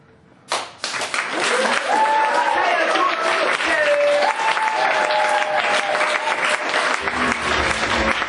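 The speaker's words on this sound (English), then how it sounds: "Applause is going to ripple around you as I bring on our next act." A comedy club audience in Lancaster bursts into loud applause with cheers and whoops, a dense wave of clapping that swells within a second and stays full. A voice calls out over it.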